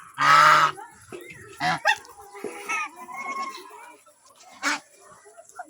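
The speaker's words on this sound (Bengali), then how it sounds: "আমার আরো রাজহাঁস এখন চলে এসছে" Geese on a farm honk as they arrive for grain, with one loud, close call followed by several shorter, quieter honks and some soft rustling between them.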